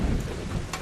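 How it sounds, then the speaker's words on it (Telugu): Steady rain with rumbling thunder during a nighttime storm, a continuous wash of rainfall with a low thunder roll, fairly loud and with no voices. "వర్షం పడుతుంది"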